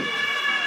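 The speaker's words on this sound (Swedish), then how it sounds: "Nu kommer ambulans." An animal ambulance siren wails steadily and loudly as the vehicle passes close by, a continuous tonal sweep lasting under a second.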